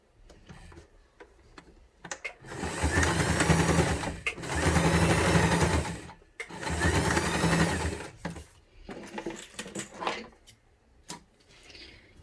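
A sewing machine stitches a finishing seam on fabric in three rapid whirring bursts of about two seconds each, close and clear, separated by short pauses with quiet handling sounds.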